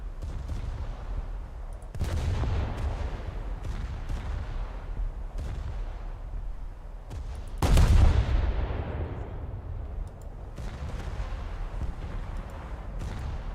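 Loud cannon and gunfire in War Thunder, a string of sharp heavy shots at irregular intervals, one especially strong boom partway through, each trailing off into a rumbling tail.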